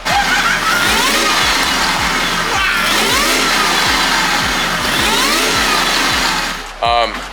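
A loud car engine runs steadily with a rising high-pitched whine over a rhythmic thumping, ending with a brief squeal.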